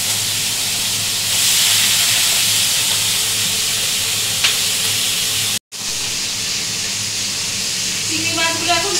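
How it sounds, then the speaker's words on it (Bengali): Prawns frying in hot oil, a loud, steady hiss of sizzling close by that breaks off briefly and resumes, with light crackles and a voice at the end. "তা চিংড়ি মাছগুলো আমি আগে ভেজে নিই"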